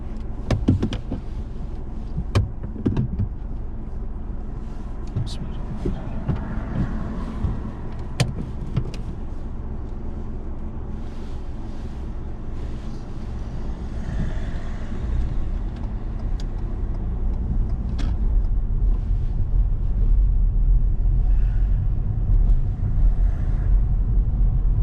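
A car driven on a mock driving test around Yardley, Birmingham, with a steady engine and road rumble throughout, plus a few sharp clicks and knocks from inside the cabin.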